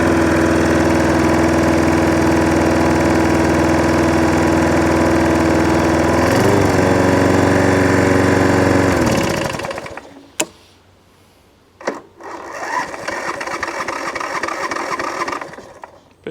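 A Hayter 41 lawn mower engine runs after an electric start with a steady, loud idle drone for about nine seconds, then cuts out, followed by a few sharp knocks and a rattling clatter.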